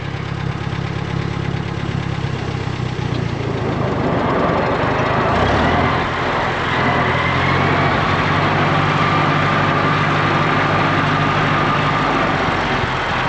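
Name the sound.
Volkswagen Bug engine started and running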